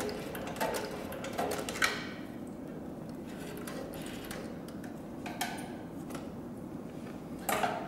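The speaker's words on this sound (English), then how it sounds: "now we're going to go ahead and sew in reverse" A CB3200 sewing machine stitching leather in reverse, producing a steady soft rhythmic ticking of the needle with occasional sharper clacks, fairly faint and close, with no talking.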